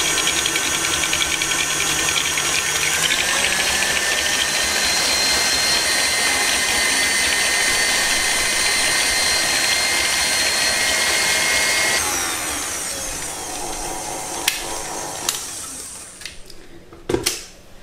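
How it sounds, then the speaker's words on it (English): An electric mixer whirs steadily and loudly for about twelve seconds, whisking eggs into passion fruit cake batter, then drops to a quieter, lighter hum with a few knocks and clatters as it winds down. "While whisking, add the eggs one by one."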